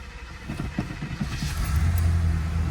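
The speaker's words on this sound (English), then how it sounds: "Cold start, it's been sitting for 2 days, so you guys see we gave it a little warm up." A 1986 Chevrolet Caprice engine idling after a cold start following two days of sitting, a steady low rumble that grows slightly louder and fuller toward the end, heard without talk.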